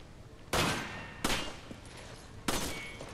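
Three loud, sharp gunshots ring out in Resident Evil 5, spaced unevenly across a few seconds, each with a short reverberant tail over a quiet background.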